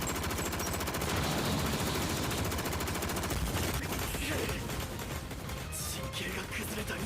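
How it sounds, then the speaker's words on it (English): Cannon fire from a One Punch Man anime fight scene, a dense, continuous barrage of rapid booming blasts that roars steadily throughout, loud and close, with a faint voice underneath. "Cannon."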